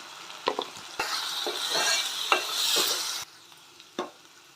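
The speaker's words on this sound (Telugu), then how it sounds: "అల్లం వెల్లిపాయ పేస్ట్ పచ్చివాసన పోయేదాకా ఉడకనివ్వండి" Ginger garlic paste frying in a pan for a tomato chicken curry bursts into a loud, close sizzle for about two seconds, then fades back to quieter frying with spoon taps and scrapes against the pan.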